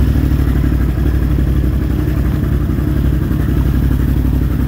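A Can-Am Outlander 850 ATV engine starts and runs, a loud, steady mid-pitched engine rumble with a faint clattering texture, close by and continuous throughout.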